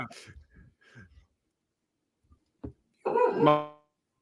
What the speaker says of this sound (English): My dog's barking like crazy, Trav.